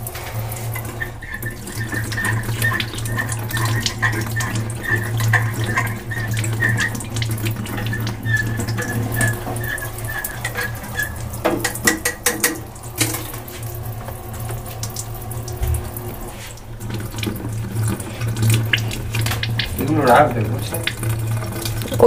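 Eggs being washed under a running kitchen tap, with a steady stream of water and splashing, and a low hum throughout. Someone talks over it for most of the twenty seconds.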